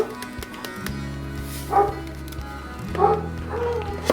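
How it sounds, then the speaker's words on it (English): Dogs bark in a home kitchen in two short bursts of yips and barks a second or so apart, fairly close, over a sustained musical background. "And my dogs are barking again."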